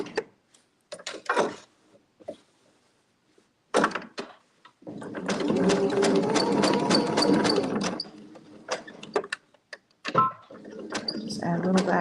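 Sewing machine free-motion quilting a floral petal on a boho quilt block, one steady burst of stitching of about three seconds with a shorter run near the end, close by, with someone talking before and after.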